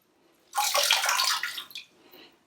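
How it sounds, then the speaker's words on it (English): Water squeezed by hand out of a wet, fluffy woolly cowl, a dense splashy gush lasting about a second and a half close by, then tapering into a few trailing drips. "I'm just going to give it a gentle squeeze"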